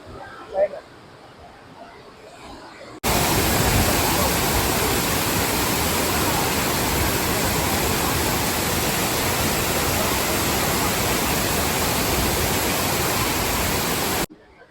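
Roadside waterfall along the Ramoji Film City highway in Hyderabad, a loud, dense, continuous roar of falling water that starts abruptly after a quieter stretch and holds steady for about eleven seconds.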